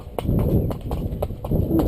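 Steady clip-clop of a ridden horse's hooves on firm ground, rhythmic and close, footfalls repeating evenly.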